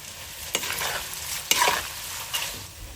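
Flattened rice (poha) stirred and sautéed in oil in a home kitchen pan, a steady soft sizzle with scraping spoon strokes at irregular intervals, close and moderately loud, no talking.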